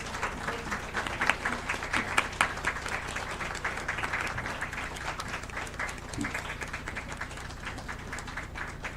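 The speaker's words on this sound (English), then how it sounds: "A huge round of applause for the chief guests and our guests of honor" Hall audience at a moot court prize distribution ceremony gives sustained applause for the chief guests and guests of honor, a dense, even roar of many hands clapping for the whole stretch, with a few sharper individual claps standing out.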